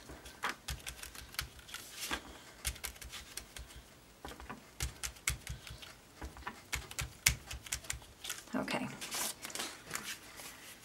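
Sponge dabbing ink onto cut card pieces for a pop-up octopus card, a rapid run of soft, irregular taps and scuffs close by, with a voice speaking through parts of it.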